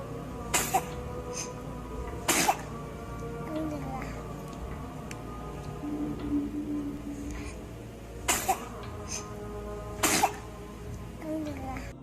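A newborn baby gives four short, sharp sneezes spaced a few seconds apart, close and clear over quiet room tone, with soft murmurs between them.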